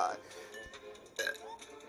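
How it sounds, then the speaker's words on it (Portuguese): A short burp from an animated cartoon character comes through as one brief guttural belch, mixed with playful voiced sounds and light background music in a lively, close-up delivery. "tá bravo esse arrotinho meu, hein?"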